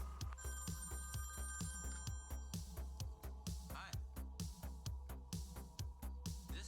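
An old-style telephone bell rings in steady repeated bursts in a quiet kitchen where apples are being prepared, the rings fairly faint and close together.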